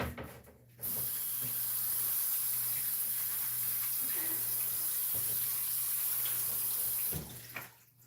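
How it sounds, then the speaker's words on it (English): Pig meat being rinsed under a running tap, water pouring steadily and loudly for about six seconds with a hissy splash, quieter before and after. "Let me try rinsing it off a little bit now."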